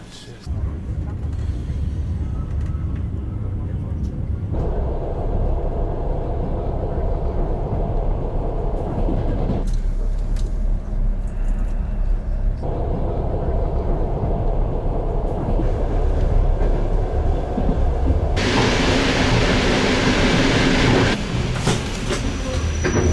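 Steady low rumble of a train running on rails in provincial Belarus, continuous and close, with faint muffled voices and shifting tones as the carriage moves.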